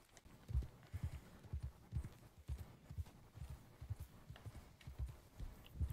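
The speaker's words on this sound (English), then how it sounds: "How do I get the horse to calm down?" Horse hooves clip-clopping at a steady trotting rhythm in the video game Red Dead Redemption 2, close and fairly quiet, with regular low thuds running through the whole stretch.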